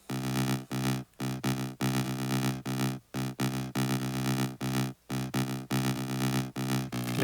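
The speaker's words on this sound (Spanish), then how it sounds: "vamos a utilizar saturación y esto suena así" EDM bass line with amplifier saturation and an LFO, gritty and harmonically rich, played as loud choppy sustained notes with short gaps in an uneven rhythm, alone with no voice.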